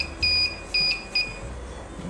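Three short electronic beeps, high and piercing, spaced about half a second apart over a quiet background hum.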